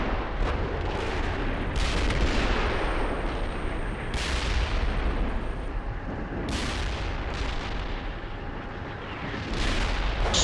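Video game battle audio with a dense, continuous roar of gunfire and artillery-like blasts, several sharp, loud explosive cracks standing out over the barrage, suggesting an anti-tank guided missile launch amid the firing.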